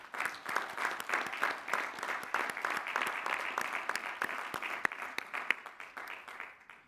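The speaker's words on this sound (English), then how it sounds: "applause" Applause for doctoral graduates at a commencement ceremony, moderately distant clapping from a large crowd with individual sharp claps standing out, gently rising and falling before easing off.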